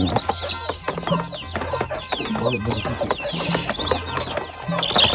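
Several chickens cluck busily in a rural Lao village, with short repeated calls near and far and steady low background noise.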